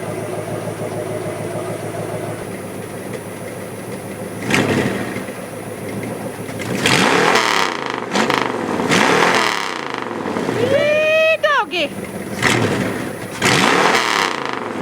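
A 1964 Plymouth Barracuda engine turns over and starts, then revs repeatedly in loud, quick bursts, settling back to a rough idle between them.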